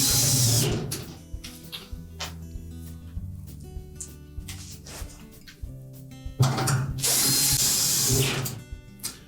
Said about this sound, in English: we'll reinstall the screws in the bottom